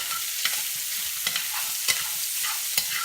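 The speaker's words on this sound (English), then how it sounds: "Got to have a little bit of" Fat melts in a hot pan for biscuits and gravy, giving a soft, even hiss with a few sharp ticks and scrapes spaced roughly evenly apart.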